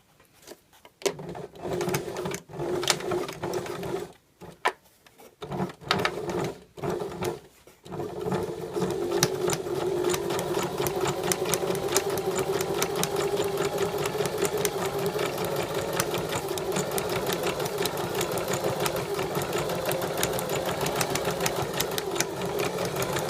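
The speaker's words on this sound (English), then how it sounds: "that is stitching in the groove here, so not stitching on the binding but stitching on the fabric" A sewing machine stitches in the groove of a Hong Kong seam binding on fabric, first in a few short stop-start bursts, then running steadily and close for a long stretch with a continuous whirring rattle.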